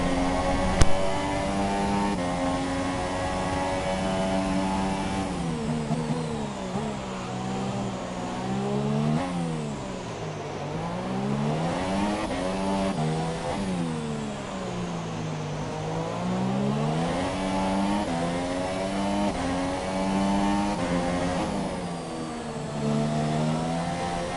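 Formula 1 race cars, including a Ferrari, scream past one after another, their high-pitched engines sweeping up and down in pitch as they accelerate and brake through a twisty section, loud and continuous with no talk.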